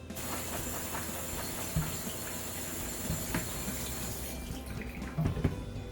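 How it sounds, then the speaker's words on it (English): Tap water runs into a sink rinsing canned beans, a steady close hiss and splash lasting the full six seconds, with a few small clunks of the can or colander. "we can just dump them both in there and rinse it out once"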